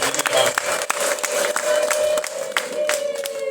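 Wedding guests clap together in a dense round of applause, with the crowd murmuring and voices mixed in, holding steady and fairly loud throughout.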